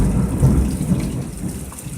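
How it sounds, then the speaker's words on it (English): Heavy summer thunderstorm downpour sheeting off a house roof faster than the gutters can handle, a dense continuous roar of rain with low thunder rumbling underneath, loud and close, no voices. "sheeting off the roof because it's raining more than any of the gutters can handle."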